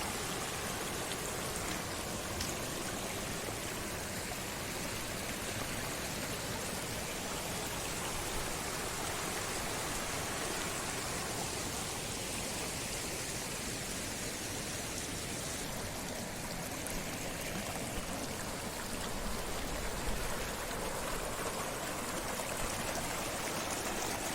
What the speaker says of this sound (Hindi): यहाँ से गिर रहा है नीचे झरना।